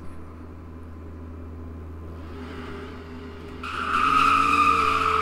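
A 2013 Chevy Camaro or Dodge Charger engine idling steadily, then revving up sharply near the end into a louder, higher roar, heard close and alone.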